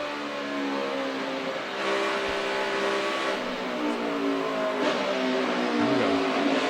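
A NASCAR Sprint Cup car's engine drones and rises in pitch as the throttle works through turns 3 and 4 during qualifying, heard from onboard as a sustained, harmonic roar that swells and dips with the corners.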